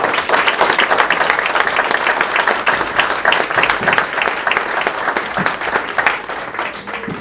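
An audience at a Veterans Day breakfast at Post 194 claps steadily, dense and sustained applause filling the room throughout without a break.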